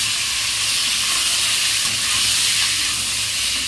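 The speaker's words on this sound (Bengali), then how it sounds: "একটু লাল লাল করে একটু ভেজে নেবো" Pointed gourd and lentil fritters fry in hot oil in a pan, giving a loud, continuous sizzle and hiss that holds steady without a break.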